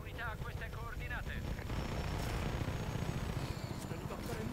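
Helicopter in Just Cause 3, a broad rotor roar and rumble filling the scene, mixed with bursts of noise and a voice speaking early on.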